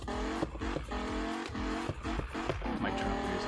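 Racing video game car with engine drone and tire squeal, a steady loud mix of continuous motor tone with repeated brief skids and bursts over about three seconds.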